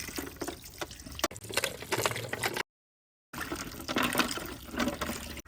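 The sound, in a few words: washing gooseberries in water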